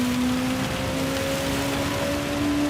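Heavy rain hisses steadily in a touring car racing video game at Spa-Francorchamps, a constant broadband wash with a car engine droning underneath at a steady pitch.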